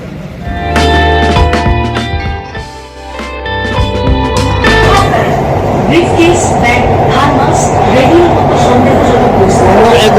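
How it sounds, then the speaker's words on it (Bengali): A Kolkata Metro train hums loudly at first with a steady tonal whine, then gives way to a rushing rumble of running wheels, close by throughout. "Metro railway Kolkata."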